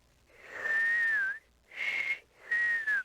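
A person whistles three breathy, wavering tones, the first long and sliding downward, then two shorter ones with brief pauses between, close and alone.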